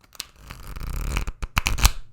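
A Game of Thrones tarot deck is shuffled by hand, giving a short burst of riffling card flutter with a few sharper snaps, close and fairly quiet.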